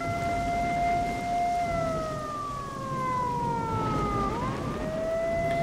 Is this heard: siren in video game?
yes